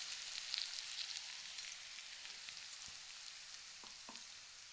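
Spices tipped into warm oil in a wok while making tenga mora pickle give a faint, steady sizzle throughout, with a few soft clinks near the end.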